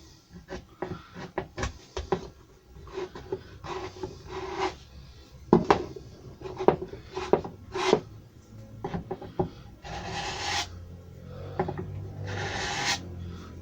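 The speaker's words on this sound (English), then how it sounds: "I've just gone down to the MDF there, got the glue off." A scraper working dried glue off an MDF kitchen door, producing close, irregular scratchy strokes and taps in short bursts, ending with longer steady rasping passes, no talk.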